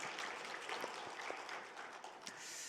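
A church congregation claps steadily after an orchestra's performance at a Sunday worship service, a dense, even wash of applause held at a constant level throughout, with no talking.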